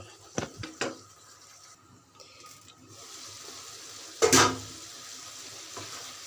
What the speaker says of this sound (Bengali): বেগুনটা কেটে রেখেছিলাম সেটা দিয়ে দিচ্ছি এখন ওইগুলো আমি ভালো করে আবার হালকা কষিয়ে নেব